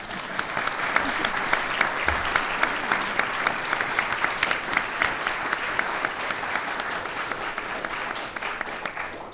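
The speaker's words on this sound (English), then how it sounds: "These people deserve a round of applause." An academic panel audience gives warm, sustained applause for library staff and teaching assistants, dense clapping that holds steady for several seconds before tapering slightly at the end.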